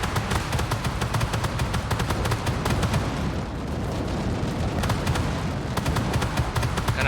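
Airstrike in the tank game Armored Warfare: dense, continuous rumbling gunfire and explosion noise with sharp repeated cracks, loud and sustained throughout.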